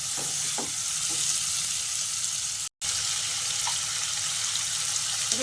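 Potatoes stir-fry in spiced oil with a constant close sizzle, broken by scraping stirs and a brief drop-out in the middle, and nobody speaks.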